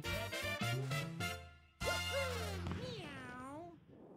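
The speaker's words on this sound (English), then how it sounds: "I love that they say meow when they're in the cat suit." A cat-suit character in Super Mario 3D World meows in the game, giving several quick, clear, high meows followed by a longer drawn-out wavering one, close and alone.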